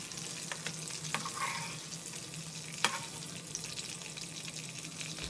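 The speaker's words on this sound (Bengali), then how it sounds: "আমার চিংড়ি মাছ ভাজা হয়ে গেছে" Shrimp frying in oil, a soft, steady crackling sizzle heard up close with a few light clicks of stirring.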